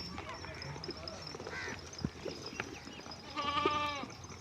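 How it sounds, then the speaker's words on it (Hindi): Goats on a DDP goat farm bleat under steady talk, with a clear, close, wavering bleat near the end among scattered farmyard noises. "DDB की अच्छी से अच्छी बकरियां आपको दिखाता हूँ।"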